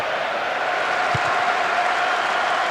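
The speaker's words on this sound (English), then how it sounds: "The crowd close to the pitch makes for a good atmosphere" Steady stadium crowd noise in PES 2008 on PS2, a continuous broad roar at an even level with no clear peaks, filling the background the whole time.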